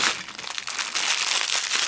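Thin plastic parcel bag from China crinkling and rustling as it is carefully opened, a close, continuous dry crackle with small bursts, no talking.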